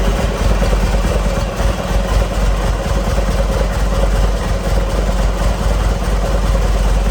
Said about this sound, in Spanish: Y le doy a arrancar a la moto.